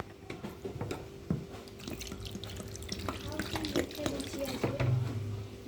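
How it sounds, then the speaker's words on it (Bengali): Water poured into a pot of Bengali shapla-leaf fish curry, a running, splashing pour with faint clinks and stirring, heard close over background voices. "তো পরিমাণ মতন জল দিয়ে দিলাম।"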